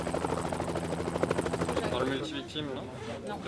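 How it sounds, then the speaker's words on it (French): French and Italian rescue helicopters ferry specialist teams onto a ferry during a maritime rescue exercise, their steady, buzzing rotor drone running beneath a talking voice and fading slightly toward the end. "Plusieurs équipes spécialisées vont être successivement projetées à bord du ferry par des hélicoptères"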